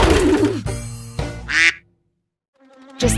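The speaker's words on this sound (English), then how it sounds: "A duck." A cartoon duck in a children's song gives a few short, nasal, buzzy quacks, loud and close, separated by a brief silent gap.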